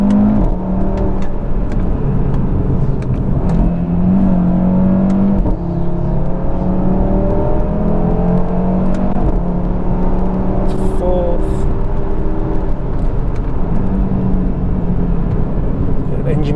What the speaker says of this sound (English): Let's go to second. So it just fires at that exhaust.